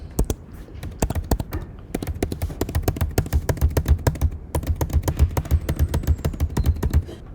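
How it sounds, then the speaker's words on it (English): Rapid keypresses entering numbers into a list on a TI-84 calculator or in Desmos, a close, dense stream of sharp clicks with brief pauses near two and four and a half seconds, no voices. "So first we'll just type in our numbers in a list called L."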